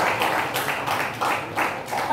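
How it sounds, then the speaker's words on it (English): Audience applause for Nirush Raghavan after he completed an Asia Book of Records task, dense and steady clapping in pulsing waves that fills the whole stretch. "And he needs a round of applause from all of us."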